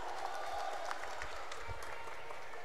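An audience applauds a cricket team at a local tournament, steady broadband clapping sustained through the whole moment, loud and close with a crowd murmur beneath it.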